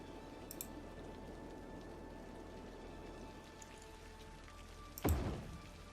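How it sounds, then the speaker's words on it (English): Steady rain patters in the city-builder game Cities: Skylines, a faint, even hiss of drops with a few louder splats, ending in one sharp, loud knock-like hit near the end; no one speaks. "That rain's coming down, which is funny because it's all paused."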